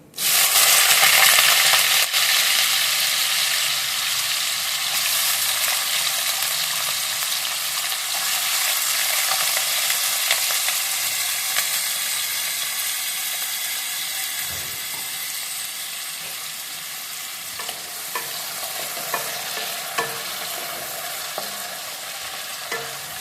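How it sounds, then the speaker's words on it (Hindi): Raw potatoes fry in hot oil with cumin, a loud continuous sizzle that starts abruptly and slowly settles, with occasional faint stirring clicks near the end. "जीरे के बाद इसमें तलेंगे हम अपने आलू।"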